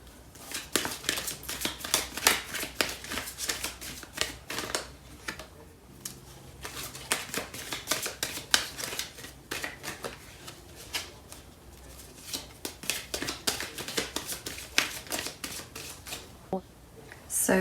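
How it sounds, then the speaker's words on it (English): A Starseed Oracle deck is shuffled by hand for a tarot reading, giving a long run of close, rapid card riffles and slaps. The bursts come in quick rhythmic clusters with only brief pauses, and there is no talk. "I'm gonna pull out a card from the Starseed Oracle deck."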